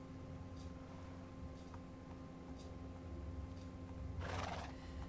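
Horses in a Minecraft race: soft hoof clip-clops and a neigh, with a louder whinny near the end, heard quietly over a steady game background hum without talk.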